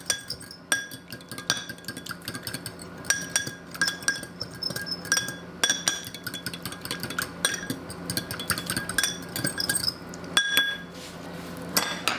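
A spoon stirring a fresh corn and tomato salad in a bowl, with quick repeated clinks and scrapes against the dish in an uneven rhythm, close and moderately loud.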